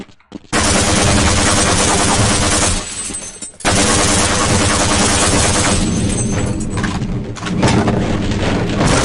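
Automatic gunfire from the video game Half-Life: Blue Shift rattles nonstop at wooden crates, a loud, dense burst of rapid shots. Two short pauses break it, and splintering impacts mix in.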